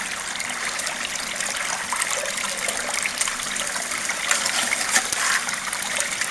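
Water gushes and trickles steadily through a gold sluice at a fine-gold cleanup station as a pail of material is fed in, a continuous broadband rush with no talk.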